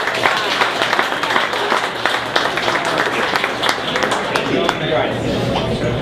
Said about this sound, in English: please give a huge round of applause for Greg.